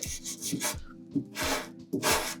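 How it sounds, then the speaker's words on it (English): Hand sanding the edge of a vintage cocktail cabinet with 320 grit sandpaper, close rhythmic rasping strokes, about five back-and-forth passes with short gaps, no voices. "now I'm just going to take a 320 grit sandpaper"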